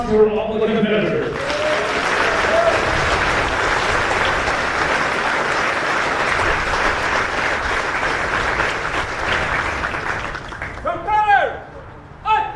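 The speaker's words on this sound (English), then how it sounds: "Let's have a round of applause for all the competitors." Sustained audience applause for competitors at a military artillery competition's opening ceremony, loud and steady for about nine seconds, with a voice speaking briefly before it starts and again as it tapers off.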